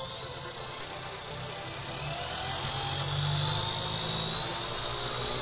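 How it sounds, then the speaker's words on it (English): A large propeller spins on a solar airship's motor test mount, giving a steady, loud whirring whine with a high electric motor tone that climbs in pitch and intensity as throttle increases. "one way you do that is with a large propeller spinning relatively slowly"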